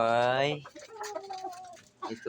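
Pet chickens on a farm clucking and crowing up close, a loud drawn-out rooster-like call at the start followed by shorter clucks, with someone talking briefly alongside.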